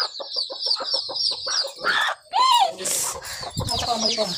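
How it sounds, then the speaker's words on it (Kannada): A domestic hen at a family home clucks in repeated short bursts, close and fairly loud, with a few longer squawking calls in between. "ಇದು ಬಂದು ನಮ್ಮ ಮನೆಯ ಕೋಳಿ"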